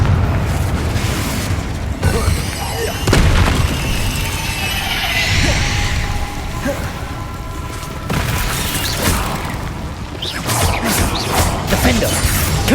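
Confringo spell blasts in Hogwarts Legacy, dense booming explosions and crashing impacts piling up continuously through combat, loud and close, with spoken voices mixed in.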